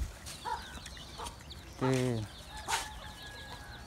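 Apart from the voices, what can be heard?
chickens clucking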